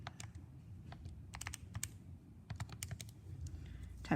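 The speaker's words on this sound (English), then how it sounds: "Typed the wrong thing in." Typing on a computer keyboard during a geometry review, irregular bursts of close key clicks and taps with short pauses, over a low background hum.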